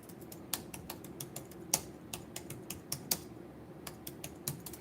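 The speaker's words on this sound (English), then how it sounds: "Go to Google Images and type in military graveyard." Someone types on a computer keyboard, a steady run of crisp, close key clicks with small pauses between bursts, no voices.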